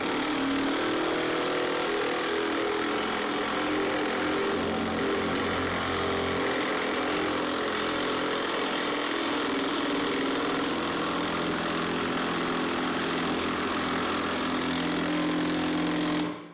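A cordless OZ/The Black Tools impact driver runs at its slowest speed while driving a screw, giving a steady, continuous buzzing whir that holds for the whole stretch and then stops abruptly at the end.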